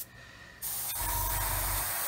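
Airbrush spraying black fine surface primer at 18 PSI, a quiet lull then a steady, close broadband hiss that starts abruptly and continues evenly to the end.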